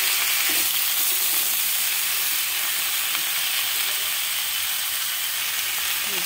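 Pumpkin, radish, potato and drumstick pieces frying in oil for a Bengali pumpkin curry, a continuous even sizzle up close with light stirring and no pauses.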